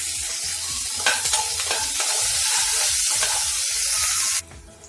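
Spices, urad dal, garlic and curry leaves frying in oil in a pan for mutton gravy, a steady loud sizzle with bursts of stirring scrapes, stopping abruptly near the end.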